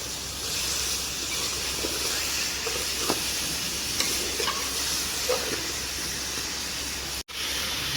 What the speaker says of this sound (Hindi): चलिए अब हम पाई को भून लेंगे अच्छे तरीके से।